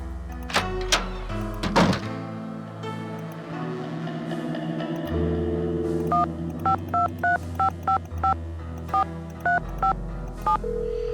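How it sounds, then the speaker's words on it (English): A telephone in the video game Nancy Drew: The Final Scene, with a few thunks and a handset pickup, then a dial tone and a rapid series of distinct touch-tone dialing beeps, clear and close. "So we'll call Ned, and then we'll call Bess and George"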